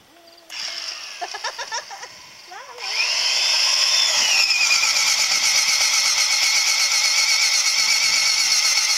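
A power drill bores into timber during the restoration of an old housebarn. A few short bursts are followed by a long, loud, steady whine at close range.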